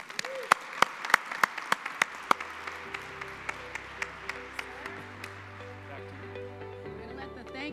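At a Main Street summit awards session, a single sharp clap repeats in an even rhythm, bright at first and then fading, while a low steady tone runs underneath.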